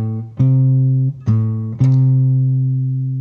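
Guitar sounds a minor-third interval: a low sustained note, then a second note plucked twice over it, both ringing clearly and alone.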